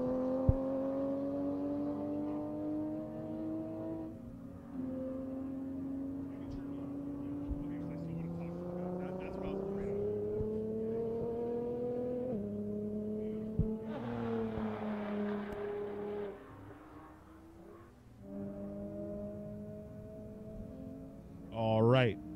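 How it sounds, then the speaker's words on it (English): A very mild Honda Civic and other race cars lapping a track, engine notes climbing through gears in long rising sweeps with shifts, distant and moderate, with a brief whoosh of another car passing near the end. "He's running about 2-minute flat time in his very, very mild Honda Civic."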